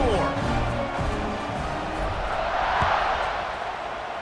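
Stadium crowd noise from EA Sports College Football 26, a steady broad roar of spectators buzzing after a score, continuous and fairly loud, with a broadcast voice faintly under it.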